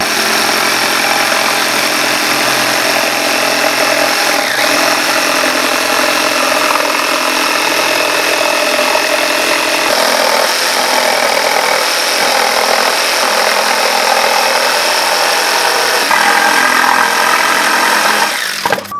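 A power tool trims the edges of wooden boards for an Oseberg-style Viking sea chest, a loud, steady motor drone that runs almost continuously, with a shift in pitch partway through and a brief dip at the end.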